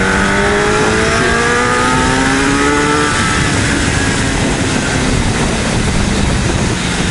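A bike accelerates hard on the road, its engine note climbing steadily in pitch, loud and close under heavy wind roar, with no talking.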